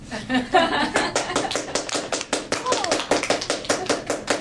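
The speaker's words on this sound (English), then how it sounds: "You're only clapping for the boys." A youth group claps in a room with a steady run of sharp, close hand claps that goes on throughout, with voices talking over them.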